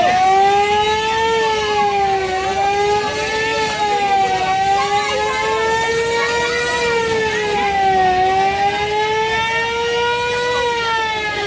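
A loud wailing siren from a fire truck, its pitch sweeping slowly up and down, with engine rumble underneath.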